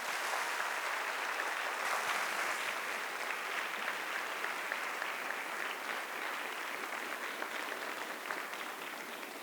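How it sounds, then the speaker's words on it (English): An audience at a school all-strings concert applauds student string performers, steady dense clapping that stays even and sustained throughout. "Let's give them a warm round of applause."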